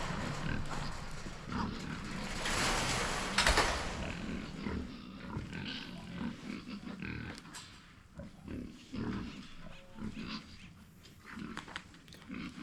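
Feeder pigs at morning feeding time on a farm, five animals grunting, squealing and jostling close by, with a loud burst of squealing early on and rustling, clanking sounds throughout.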